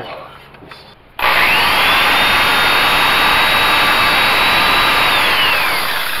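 A Ryobi buffing wheel spins up and polishes metal with Brasso on a 1980 Dodge D150 part, a sudden loud steady whine that runs on for several seconds.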